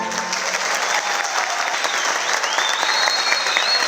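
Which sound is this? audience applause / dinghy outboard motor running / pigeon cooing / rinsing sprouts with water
audience applause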